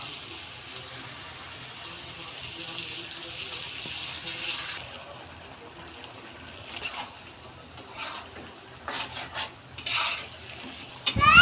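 Blended chicken meat cooking with water and green chilies in a pan for a momo filling: a steady sizzle and hiss at first, then intermittent scraping and clinks of a spoon stirring against the pan, fairly close.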